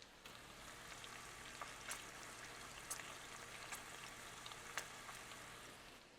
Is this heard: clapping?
no